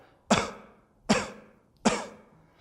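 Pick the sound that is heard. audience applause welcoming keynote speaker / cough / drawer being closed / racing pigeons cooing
cough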